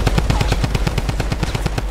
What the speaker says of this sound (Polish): serwer nie uznawał strzałów Tommy Gunna, ale zabierał nam amunicję